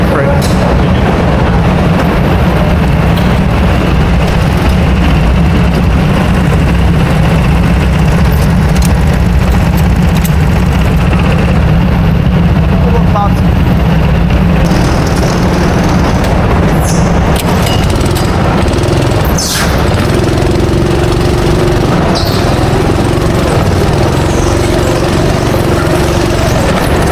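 Go-kart engines race around an indoor karting track, a loud continuous drone of buzzing motors with rising and falling pitch as karts pass, with a voice commentating over it.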